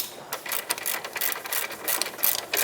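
A hand ratchet loosens tight rear caliper bolts on a 2008-2012 Jeep Liberty, giving a steady run of fast, close metallic clicks with brief uneven pauses and no talking.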